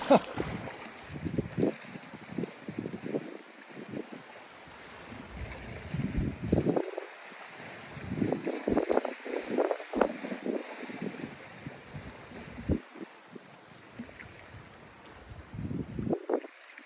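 Wind gusting by a mountain lake in the Cascades, a rough blustery rumble that rises and falls in repeated bursts against the microphone, over a steady faint hiss.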